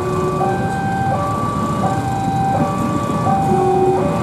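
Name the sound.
train passing on track 1 at a level crossing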